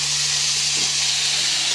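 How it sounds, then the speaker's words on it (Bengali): Chopped kohlrabi and potatoes hit hot oil with cumin seeds, giving a steady, loud, even hiss of frying that holds without a break. "এবার দিয়ে দিচ্ছি কেটে রাখা ওলকপি আর আলু।"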